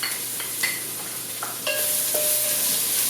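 Bamboo shoots drop into a pan of frying onion, ginger and garlic for a plant-based opo squash red curry, giving a steady close sizzle with light stirring clinks and a brighter burst of frying as they land.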